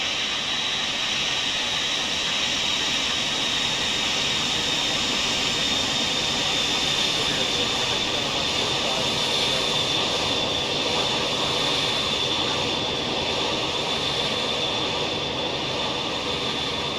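Boeing 737-200 jet engines in a flight simulator game drone loudly and continuously, a steady roar with a high whine that holds throughout, and no talking.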